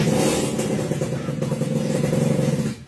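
A motorcycle engine revving as the bike moves forward, a loud throbbing mid-range drone with rising and falling throttle, close by and continuous for about three seconds.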